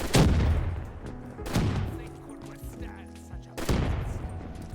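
Mustang and Sally pistols firing in Black Ops 3 Zombies, three heavy booming shots spaced a second or two apart, each ringing out with a rumbling tail, with a voice talking between them.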